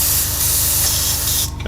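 An airbrush blows a short burst of air through its nozzle to clear the needle, giving a loud, close, steady hiss that cuts off near the end.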